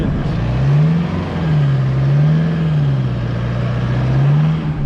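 Car engine labouring as the vehicle crawls and turns through thick sand on narrow rural tracks in Mozambique, a steady close drone rising and falling as the throttle works, with no talking.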